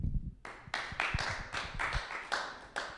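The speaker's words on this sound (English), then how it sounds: "You don't really have to clap for this guy." Studio audience applause at a comedy stage show, starting after a beat of low rumble, with bursts of clapping that swell and fade in waves, fairly close and moderately loud, no talking over it.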